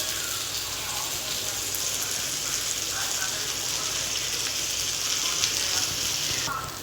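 Tomatoes frying in a pan for egg bhurji, cooking until soft. A continuous, close, even sizzle holds steady throughout and tapers slightly at the very end.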